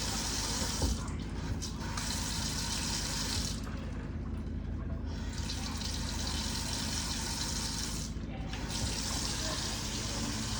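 Water runs steadily from a newly installed kitchen sink faucet, a constant close hiss and splash into the basin, shifting slightly in tone as the flow hits the sink.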